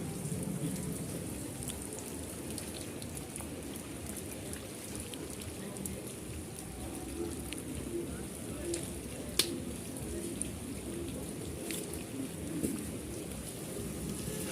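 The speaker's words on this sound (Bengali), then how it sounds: "যে বৃষ্টি নামছে" Steady rain falls on surfaces in a continuous, moderately faint hiss, with occasional louder drops and distant thunder-like rumble; people talk intermittently in the background.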